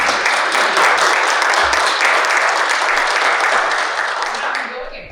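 Dense audience applause at a municipal housing roundtable meeting, continuous and fairly loud for several seconds before fading slightly at the close.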